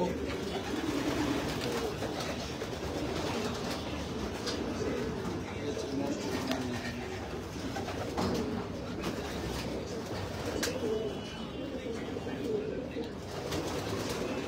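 Pigeons coo repeatedly in a loft, low and throaty, with overlapping calls running through the whole stretch alongside background noise and some faint voices.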